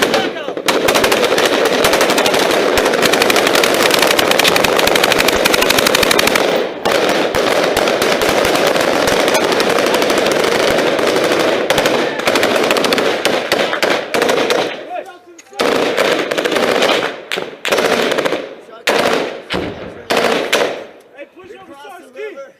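Sustained automatic machine-gun fire rattles almost without pause during a bridge assault in a war video game, loud and dense for about fifteen seconds before breaking into shorter bursts and gaps that fade toward the end.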